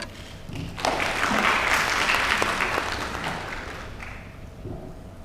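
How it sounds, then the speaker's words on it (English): Audience applause at a school debate, a sustained burst of clapping from a room full of people that swells quickly, holds steady for several seconds, then tapers off, with no talking over it. "giving all other debates a warm round of applause"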